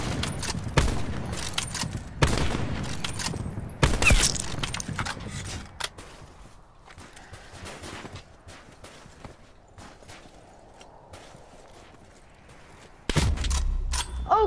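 Gunfire in a first-person shooter game, mostly bursts of sharp shots near the start, around 4 seconds and again at the end, with quieter rattling game noise between.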